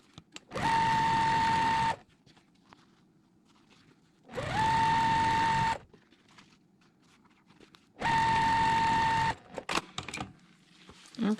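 A sewing machine stitches quilt block pieces together in three separate bursts. Each is a loud, steady mechanical whir lasting a second or so, with quiet pauses between them.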